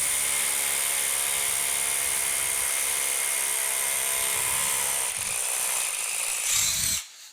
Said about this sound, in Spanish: Realmente los golpes de este rotomartillo pues son bastante buenos